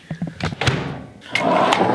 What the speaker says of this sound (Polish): Nagram jeszcze dźwięk zamykanej lodówki.